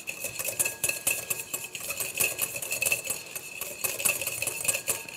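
A whisk beats mayonnaise in a bowl as olive oil goes in a little at a time. Quick, steady metallic clinks and scrapes ring close and bright, with no talking.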